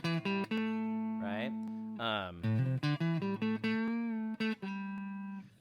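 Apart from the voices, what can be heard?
clean electric guitar, Fender Telecaster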